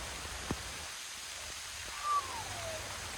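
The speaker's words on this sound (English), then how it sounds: "It's raining again." Steady rain from Hurricane Beryl's remnants falls around a campsite in Ontario, a soft continuous hiss with a faint tap near the start and a brief thin whistle midway, heard from close by with no voices.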